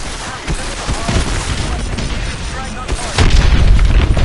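Missile strikes blast the hard points of a hydroelectric dam in the Call of Duty: Advanced Warfare campaign, a steady roar of booming explosions and rumbling fire that swells louder near the end.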